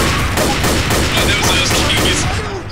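Rapid gunfire in the zombie shooter Left 4 Dead, loud continuous bursts of shots overlapping for the whole stretch, with a faint voice beneath.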